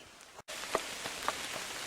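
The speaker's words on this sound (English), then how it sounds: "plenty of rain still comes on down" Steady rain falls through a shaded fern forest in New England, a dense even hiss with a few louder drip impacts scattered across it and a brief cut near the start.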